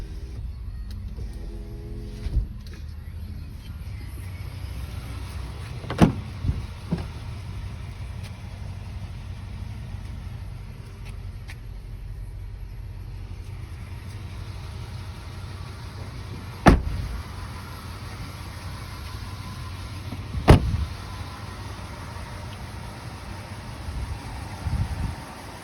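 The rear power sliding window of a 2006 Toyota Tundra double cab SR5 operates over a low idle, with a couple of faint motor hums and sharp thuds as it stops.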